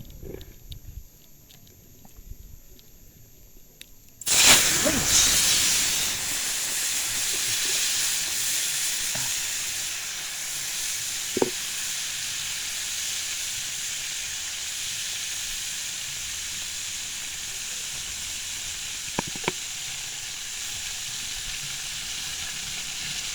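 Fish roe dropped into hot oil bursts into a loud, steady sizzle that goes on with little change, with a few faint pops and clinks; before it, a short quiet stretch of kitchen sounds.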